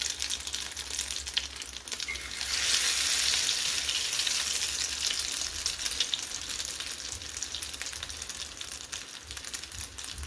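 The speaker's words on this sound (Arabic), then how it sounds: "هنا بعد ما درت الزيت تسخن نحط مباشره في الخليط ونحط في الزيت" Stale bread slices dipped in egg and milk sizzle in hot frying oil, a continuous bright crackling hiss that swells after a couple of seconds and holds steady.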